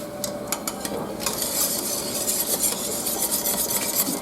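Lemon meringue pie filling with cornstarch being stirred as it boils in a pot, a dense bubbling hiss with rapid scraping strokes that grow busier after the first second, no voices.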